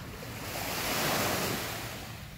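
Waves break on the shore at Forum Beach in Portmore, Jamaica, a steady, close wash of surf that swells toward the middle and eases off, with some wind noise on the microphone and no voices.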